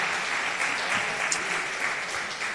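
A church congregation applauds steadily during a Portuguese-language worship service, a dense, even wash of clapping from many hands that holds throughout without pause.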